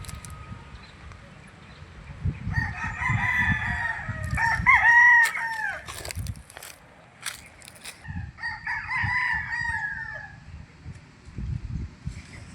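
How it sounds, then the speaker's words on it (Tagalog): A rooster on a gamefowl farm in Tagaytay crows loudly twice, long drawn-out calls close by, with low rumbling noise and scattered clucks between them. "Ang manok."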